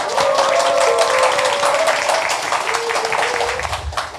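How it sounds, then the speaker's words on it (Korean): Studio audience applauding loudly at the opening of a political talk show, a steady dense burst of clapping with a sustained musical tone underneath throughout. "여러분의 힘찬 박수와 함께 시작하겠습니다"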